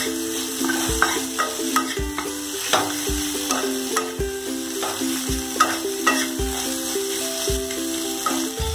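Something frying in a pan while being stirred, a continuous sizzle punctuated by regular scraping strokes of a spatula roughly once a second, close and fairly loud.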